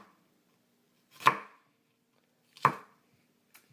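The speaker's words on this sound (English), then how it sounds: "Just cut it to small strips and cut it the other way to make them small cubes" A knife chops an onion into small cubes on a board, two sharp distinct chops spaced more than a second apart and a faint third tap, close and clear in an otherwise quiet space.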